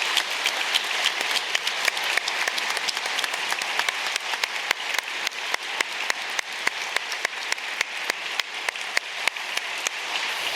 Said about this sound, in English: get a room full of Scandinavians to applaud happiness